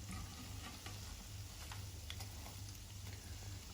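Chicken and potato bread roll shallow-frying in a pan of oil, a steady soft sizzle with faint crackles, quiet and close.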